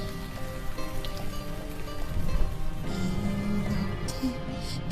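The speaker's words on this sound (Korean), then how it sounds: "조용히 비가 내리네" Steady rain falls throughout, a continuous wash of drops on a surface, with a sustained musical tone running underneath.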